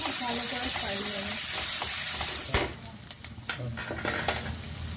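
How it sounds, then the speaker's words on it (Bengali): Onions fry in a pan with a constant hiss and sizzle, overlaid by scraping stirs and clinks of a utensil against the pan, loud and close throughout. "পেঁয়াজটা ভালো করে ফ্রাই করে নেব। পেঁয়াজটা কিন্তু খুব ভালো করে ফ্রাই হবে।"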